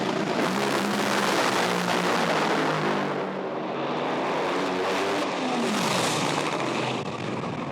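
Top fuel drag racing car making its run and smoking the tyres, a loud, sustained engine roar with a shifting, sweeping pitch as the car powers away, alone without talk.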